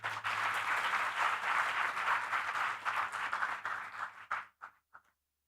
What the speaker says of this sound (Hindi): पर तू सब जोर से ताली बजाओ